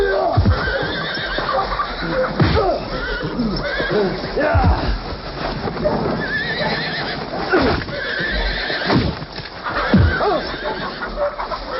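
Horses whinny and neigh repeatedly over clip-clopping hooves on a Western film soundtrack, loud and close, with talk mixed in.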